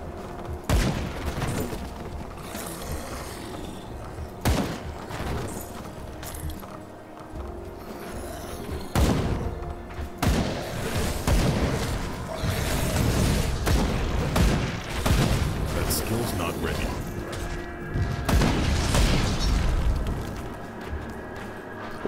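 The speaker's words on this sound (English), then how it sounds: "Really is a satisfying explosion." Explosions and combat in the video game Grim Dawn, repeated loud booming blasts and rapid fusillade-like bursts with clattering hits, dense and continuous against game music and effects.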